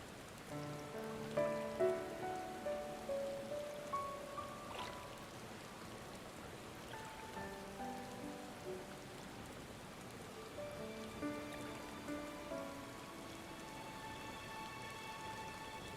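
Rain falling in Final Fantasy XIV Endwalker, a steady soft patter of drops with no talk, joined by sustained musical tones from the game's soundtrack.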